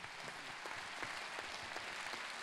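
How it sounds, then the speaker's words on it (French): A quiet audience at an evening gathering applauds the volunteers, a faint, steady patter of clapping with a few louder individual claps. "je crois qu'on peut les applaudir parce que c'est exceptionnel ce que vous faites"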